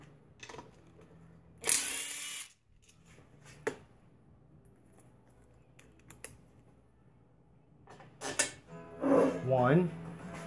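Bolts being removed from a CVT cover, with scattered metallic clicks and taps of tools and fasteners at close range, plus a few louder rattles and clinks near the end.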